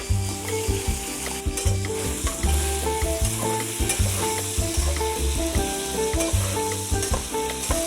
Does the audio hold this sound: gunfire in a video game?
no